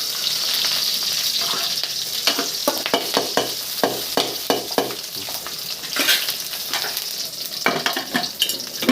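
Chillies frying in oil in a home kitchen, a steady close sizzle broken by repeated stirring scrapes and clatter, with no talk over it.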